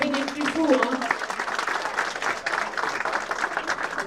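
Audience claps warmly for a chef at a clowning celebration, a continuous ripple of hands with a voice briefly speaking over the start.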